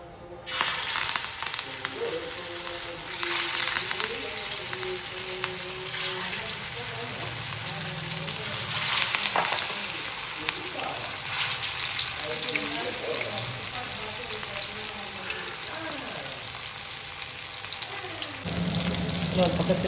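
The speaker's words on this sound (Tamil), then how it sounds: "மீன் இப்போ பொரிச்சிக்கலாம்." Fish frying in a pan with oil: a steady, close hiss and crackle that lasts throughout, with a few brief spoken bits over it.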